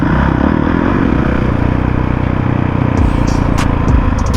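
A Honda CRF450R dirt bike rides off-road through a canyon near Santiago, Mexico, its loud, steady engine drone close by with clattering and scraping over rough ground.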